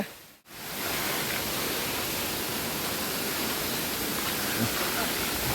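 A forest waterfall roars as a steady, dense wash of falling water, loud and unbroken after a brief dip at the start.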